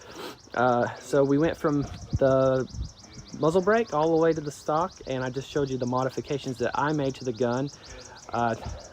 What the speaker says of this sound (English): Man, that bird's going crazy.